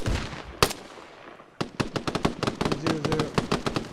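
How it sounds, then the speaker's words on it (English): Heavy gunfire in the military shooter ArmA: a single sharp shot, then after a pause a rapid string of loud automatic bursts with irregular close cracks. "What a heavy fire."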